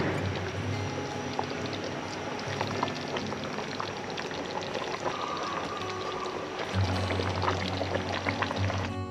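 Massaman chicken curry bubbling in a pot, a steady continuous simmering and burbling with faint liquid splashes, close and even throughout.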